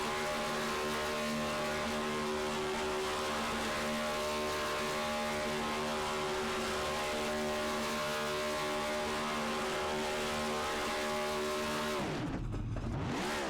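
A race car at the HTL Pacific 250 holds a steady, droning engine note through a long victory burnout, with strong even harmonics that stay level until a sudden rising surge near the end.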